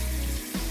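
A faucet over a large kitchen sink runs strongly, a close, full hiss of water. It briefly dips and then surges again within a moment.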